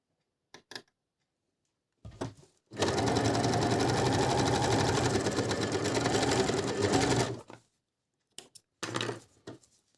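Sewing machine stitching a coverstitch seam, with a few clicks and handling taps before a loud, close, continuous rapid stitching run of about five seconds, then more scattered clicks and knocks.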